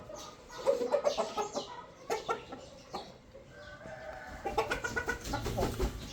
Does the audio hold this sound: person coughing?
no